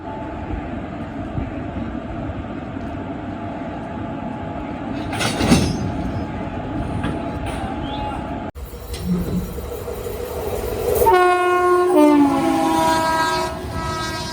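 Mussoorie Express train during a locomotive reversal: a steady rumble of the standing train, then a clank as the engine couples on, followed by a long horn blast over the running engine, with faint voices nearby.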